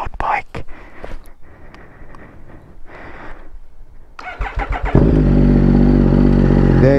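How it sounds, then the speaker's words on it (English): A Triumph Speed Triple RS motorcycle is started early in the morning. Quiet whispering and a few rustles come first, then the engine cranks, catches and settles into a loud, rumbling idle right up close. "we're gonna start this loud bike"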